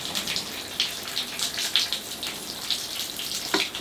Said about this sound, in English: give it another rinse. I'm using the big watering can here.